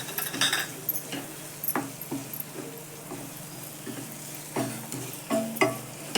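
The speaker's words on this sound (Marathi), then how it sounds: "परतून घेतलं चांगलं मसाला आणि टोमॅटो." Ground masala paste and tomato are sautéed in a pan, giving a soft sizzle broken by repeated scraping and clinking strokes of a spoon, with no talking.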